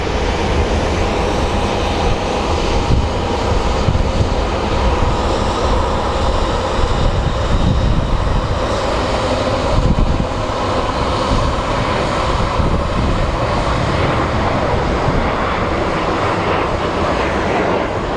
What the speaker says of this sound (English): how they're ushering the planes out